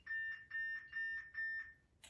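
A DIY home security system sounds its arming countdown: four evenly spaced electronic beeps, each lasting about a quarter second, clear and close in an otherwise quiet room.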